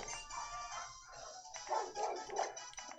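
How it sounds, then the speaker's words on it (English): Several dogs bark and yip in an excited cluster, moderately distant and fairly faint, with overlapping barks and short howl-like calls in bursts throughout. "these dogs barking around? They're going crazy."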